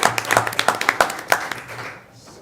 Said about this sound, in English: So we want to give Terry a round of applause.